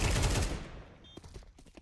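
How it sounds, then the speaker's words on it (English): A sniper rifle shot in a Counter-Strike match: one loud, sharp blast that rings out and fades over about half a second, followed by scattered quieter clicks and game sounds. "Missed shot from the sniper rifle."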